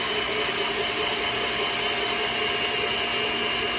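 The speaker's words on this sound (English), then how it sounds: "I'm talking loud so y'all can hear me over the mixer here." Electric mixer beating German chocolate cake batter, a loud, steady motorized whir that holds unchanged from start to finish, close up with no talking over it.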